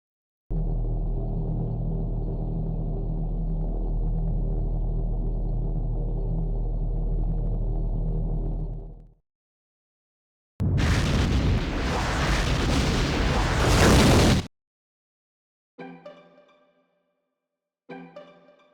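The moon exploding in the PS1 game Suzuki Bakuhatsu: a long deep rumbling roar, then after a brief silence a harsh loud blast of explosive noise, followed by two short distorted bursts.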